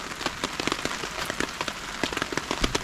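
Heavy rain pours onto a tarp shelter at a wet solo campsite. Constant loud spatter with sharp individual drop impacts scattered through it, close and uninterrupted, with no voices.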